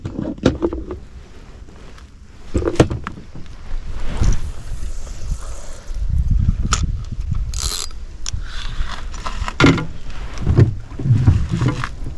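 A small rowboat moving on a calm pond, with creaking oars, splashes and knocks against the hull, plus wind buffeting the microphone.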